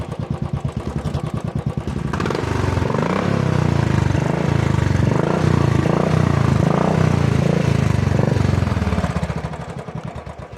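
A Royal Enfield Classic 500 single-cylinder engine idles with a steady thump, then the throttle opens into a loud, pulsing rev held for several seconds before easing back to idle, close by.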